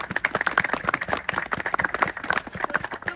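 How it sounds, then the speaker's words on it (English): A small outdoor crowd claps for a piper at a salmon fishing opening ceremony, with distinct individual hand claps in an uneven, moderately loud rhythm. "round of applause for the piper"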